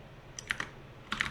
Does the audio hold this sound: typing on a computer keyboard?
yes